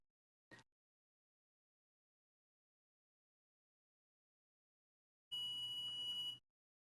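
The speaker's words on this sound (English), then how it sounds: "Thank you for welcoming me with a beep." At a school board meeting, a short faint electronic blip is followed after a long silence by a louder sustained tonal beep lasting about a second, heard alone in a quiet room.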